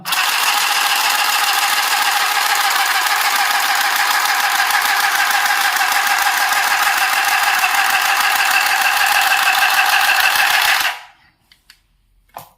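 A portable mini sewing machine runs continuously for about eleven seconds as it stitches cloth, giving a loud, steady mechanical buzz that cuts off abruptly into near silence.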